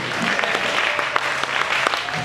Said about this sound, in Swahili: Kofi mingi kwa Yesu.